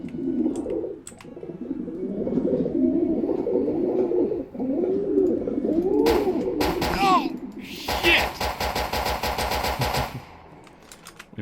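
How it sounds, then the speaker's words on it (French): A pigeon in the video game S&box coos repeatedly in low, rolling calls, followed by a rapid burst of machine-gun-like fire near the end. "J'ai pas fait spawn le pigeon."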